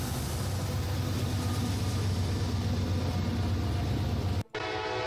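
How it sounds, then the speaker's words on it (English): A heavy Norfolk Southern freight train rumbles past at close range, a continuous dense roar of rolling cars and engine that cuts off sharply near the end, followed by a brief different tonal segment. "That's a strong train."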